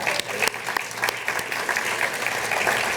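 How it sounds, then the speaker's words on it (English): Audience at a Chicago forum on economic equity claps briefly but steadily, a moderate burst of scattered applause with a few sharper individual claps standing out. "We can clap for them."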